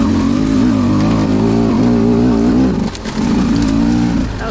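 A Beta 200rr two-stroke dirt bike revs hard in third gear on a technical trail, its engine note rising and wavering loudly and close, dipping briefly before climbing again.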